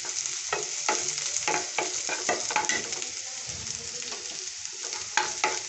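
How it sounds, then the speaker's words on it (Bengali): Chopped green chillies fry in a pan for spicy Maggi noodles, with a steady close crackle broken by repeated bursts of scraping as they are stirred. "এখন আমি এর মধ্যে দিয়ে দিচ্ছি এই যে লঙ্কা কুচোগুলি, ওটা একটু ফ্রাই করে নেব।"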